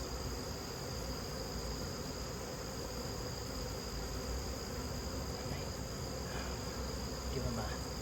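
Bees buzz in a steady, faint, continuous drone around a hive being handled, with high insect whine over a low background rumble and no speech.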